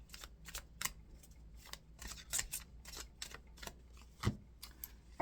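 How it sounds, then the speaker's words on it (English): Tarot cards riffle-shuffled by hand, a split deck sounding as a run of quick, crisp flutters and snaps, close and fairly quiet, with no talk over it. "So we'll give them a good shuffle here."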